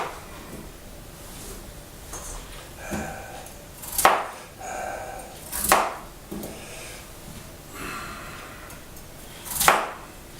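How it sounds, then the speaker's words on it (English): Knife chopping potatoes into chunks on a board, with several separate sharp knocks spaced irregularly among softer handling sounds, close and fairly clear. "We'll chop the potatoes into sizable chunks."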